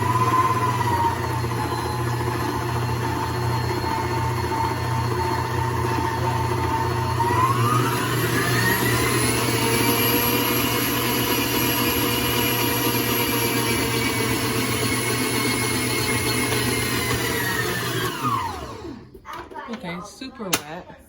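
Homemade bread dough being mixed by a motor, a steady close whir whose pitch rises partway through and then cuts off, followed by a few soft clunks.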